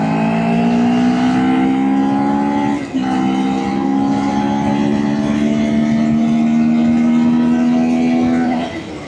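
A Taro GP1 400cc sport motorcycle engine under way on a 2026 model, humming steadily and rising in pitch, with a brief dip like a gear change early on and a drop off the throttle near the end.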